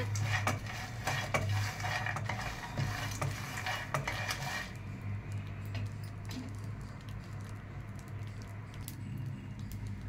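Dry fruits frying lightly in a pan, with a continuous soft crackling patter and metallic scraping of a spatula against the pan, busy at first and then settling into a quieter sizzle.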